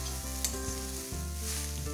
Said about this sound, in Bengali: দিয়ে ভালো করে নেড়ে নিচ্ছি।